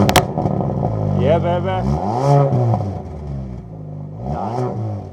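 A Ford Focus ST police car with a 2.3 litre EcoBoost turbo engine revs in two rising and falling bursts, close up, while someone talks and exclaims over it.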